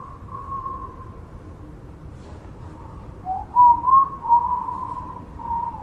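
A faint whistled melody with a few sliding, tonal notes over low background rumble, growing a little louder toward the end.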